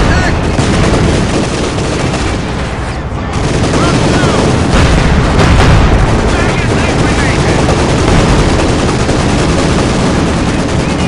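A Panther and Panzer tank battle in Company of Heroes 2 brings loud, relentless machine-gun rattle, cannon shots and booming explosions that overlap without pause.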